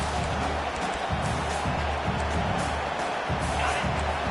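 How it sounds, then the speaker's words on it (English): In the Madden football video game, a stadium crowd roars steadily on a fourth down, a dense, constant wash of noise with no breaks. "4th down, and this crowd is making it miserable on this offense"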